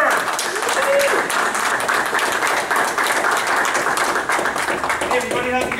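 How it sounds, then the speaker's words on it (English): A convention panel audience applauds steadily for several seconds, a dense wash of many hands clapping with a few cheers and voices underneath. "applause for Chad Vader!"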